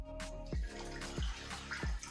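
Water pouring into an Instant Pot with a gurgling, splashing flow, in three close successive glugs, steady and near.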